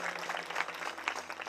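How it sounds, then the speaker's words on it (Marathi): Applause from an audience at a devotional classical-singing gathering in Alandi, a broad wash of clapping that holds steadily and fairly quietly throughout, with no voices on top. "एकदा जोरदार टाळी"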